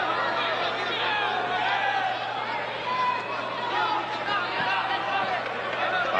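A boxing crowd of more than 4,000 fills Memorial Auditorium, a steady murmur of chatter and cheering under a ringside commentator's voice, with no sharp peaks.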